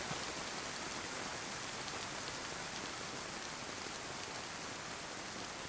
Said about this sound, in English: It looks like it's going to stop raining again after these sun showers anyway.